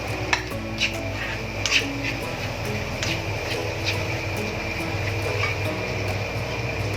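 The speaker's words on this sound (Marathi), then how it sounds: "आपण हे चांगलं हलवून घेऊया" Peanut chutney with khurasani seeds being stirred in a pan, soft scraping and occasional light clinks of a spoon against metal over a steady low hum, close and unhurried, no voices.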